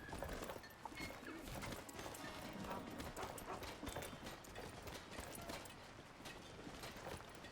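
Horse hooves clip-clop steadily in Skyrim, heavily modded, in a continuous rhythm that sits under dense game ambience and music through the whole stretch.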